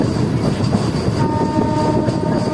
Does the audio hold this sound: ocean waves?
no